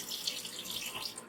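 Water draining from freshly rinsed rice, a soft steady trickle and splash like a running tap into a sink, faint and close, lasting just over a second.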